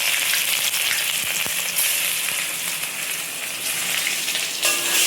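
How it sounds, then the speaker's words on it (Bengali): Cardamom, garam masala, dry red chilli and ginger frying in hot oil, a loud, continuous crackling sizzle with occasional stirring scrapes throughout. "এলাচ ফোড়ন দিয়ে এবার দিলাম শুকনো লঙ্কা, এবার দিলাম আদা"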